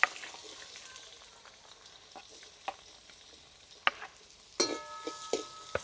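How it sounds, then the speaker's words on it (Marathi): Oil sizzles and crackles in a pan as cumin seeds fry, with sharp pops and spits scattered throughout and a louder burst of sizzling as onion is added. "तेल आपलं मस्त छान गरम झाले त्याच्यात जिरे टाकून घेऊया जिरे तडतडले की त्यात कांदा टाकून घेऊ"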